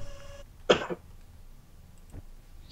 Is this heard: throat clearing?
yes